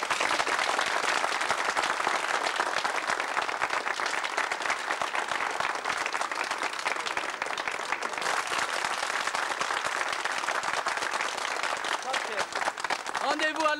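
Sustained applause from an outdoor crowd celebrating a signing ceremony, dense and steady clapping that continues unbroken for the whole stretch at moderate loudness.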